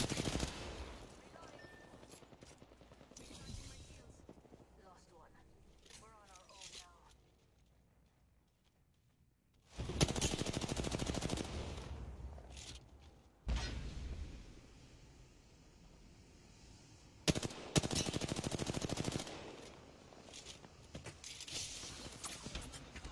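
Bursts of automatic gunfire from a first-person shooter video game, with loud rapid volleys at intervals and quieter stretches between them.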